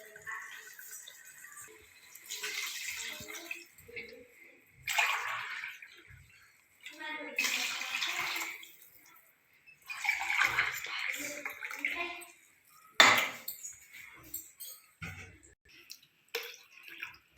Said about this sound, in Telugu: వాటర్ వేసుకుందామండి